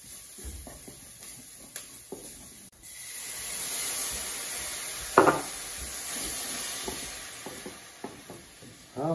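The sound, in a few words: onions and condiments sizzling while frying in a pan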